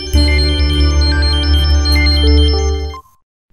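A mobile phone rings with a bright, stepping electronic melody for about three seconds, then cuts off abruptly. It is loud and close, with no one speaking over it.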